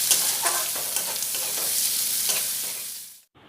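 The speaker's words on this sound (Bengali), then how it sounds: "দিয়ে একটু 1 মিনিট নাড়াচাড়া করে নেব।" Chopped onion and green chilli frying in oil while being stirred in a pan, close sizzling hiss with rhythmic scraping strokes of the spatula, ending abruptly.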